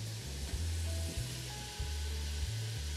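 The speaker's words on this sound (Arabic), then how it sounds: "نلوح الفطر بالزبدة" Mushrooms sizzle in butter and oil in a pan with a steady, fairly loud broadband hiss, over a low humming drone that cycles on and off.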